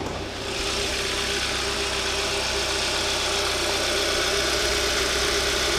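Kia Optima with a 2.4-liter GDI engine idling just after a cold start, a steady, fairly loud hum with a faint ticking texture running evenly throughout, no voices.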